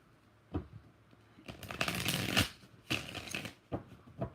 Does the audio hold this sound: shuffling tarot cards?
yes